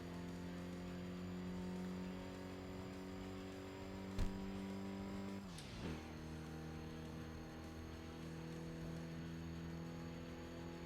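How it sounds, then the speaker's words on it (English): A car engine in the Tokyo Xtreme Racer video game holds a steady, droning hum at constant revs, then briefly sweeps down and settles back into the same even drone, with no voices. "I like the sound of the turbo."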